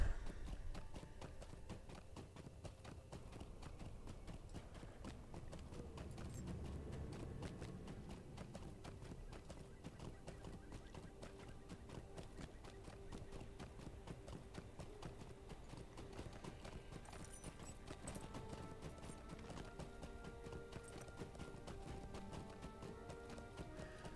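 Steady horse hooves in Lord of the Rings Online clip-clop at a quick, even pace throughout, with a faint music bed underneath and no talking.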